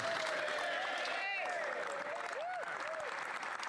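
Applause in the House of Commons during question period, a continuous wash of clapping and crowd noise with voices talking over it throughout.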